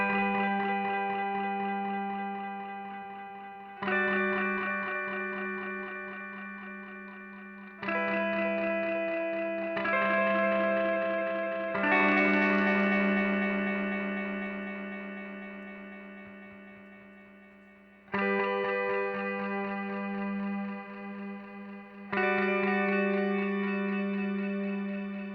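Electric guitar run through a Source Audio effects pedal in a stereo rig, playing sustained chords in several phrases that each start loud and slowly decay, heavily processed with distortion, reverb and echo; no talking.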